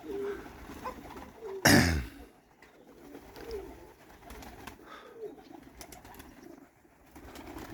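Soft, low pigeon cooing repeats in the background, interrupted briefly by a sharp burst of noise, then continues faintly.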